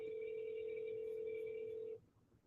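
A telephone ring-back tone on an outgoing cold call: one steady, fairly loud tone holding for about two seconds, then cutting off into quiet line noise.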